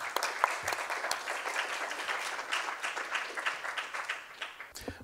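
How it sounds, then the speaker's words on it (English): Applause for a panel speaker at an energy policy forum, a modest audience clapping with distinct individual claps audible, steady and moderately distant throughout. "let's give him a round of applause"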